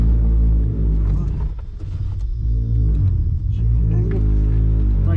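A 4WD vehicle creeps down a steep, wet slope with a continuous low rumble of engine and tyres that dips briefly and swells again.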